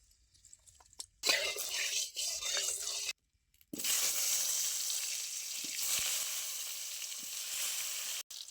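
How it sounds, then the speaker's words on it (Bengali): Potatoes frying in mustard oil in a wok, a loud steady sizzle with brief gaps as the pan is stirred. "এবারে আমি আলুটা ভেজে নেব"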